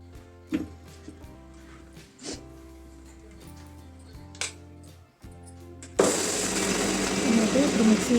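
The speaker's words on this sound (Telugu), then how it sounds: "ఇప్పుడు మిక్సీ వేసేసుకుంటున్నానండి" A mixer grinder roars into loud, steady grinding of soaked sorghum (jowar) with no water added, starting abruptly partway through after a stretch of quiet kitchen clatter and a few soft knocks.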